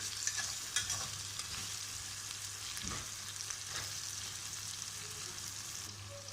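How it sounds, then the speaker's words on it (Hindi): Tomatoes and spices fry with chicken for korma in a pan, giving a soft, steady sizzle with a few scraping stirs, close but fairly quiet and without any talking. "अब इसको मैं थोड़ी देर के लिए भूनना है"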